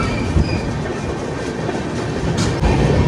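The 12073 Jan Shatabdi Express, leaving Balasore station, rumbles and clatters steadily along the tracks, loud and close, with a continuous roar of wheels and a brief squeal near the end.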